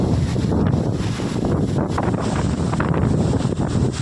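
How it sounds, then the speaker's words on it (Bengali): Strong storm wind without rain roars steadily into the microphone on a rooftop, a continuous broadband rush with gusty buffeting throughout, no voices. "এই দেখুন ভীষণ ঝড় হচ্ছে কিন্তু একটু বৃষ্টি হচ্ছে না"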